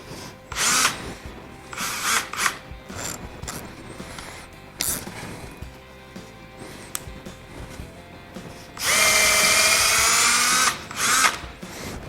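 A power drill whirs in repeated bursts, with a long loud steady run near the end, then a short final burst; the tool is close and there is no talk.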